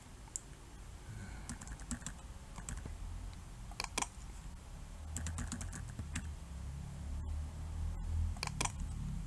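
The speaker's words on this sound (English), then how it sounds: "For example, here I'll just type your emails." Email addresses typed on a computer keyboard: quick, close bursts of key clicks with short pauses between them, heard over a steady low room hum.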